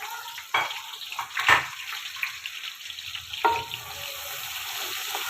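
Onions dropped into hot ghee or oil for beef pulao: a burst of sizzle as they hit the pan, then a quieter steady crackle with stirring clatters and a second splash of sizzling.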